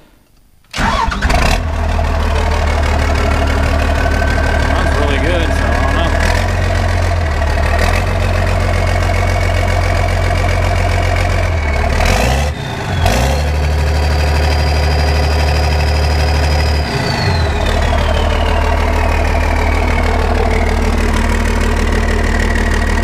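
A turbocharged engine, likely from a Vermeer chipper or Case 1150H dozer, cranks and fires, then settles into a loud, steady close-up idle with a faint rising whine and brief changes in pitch.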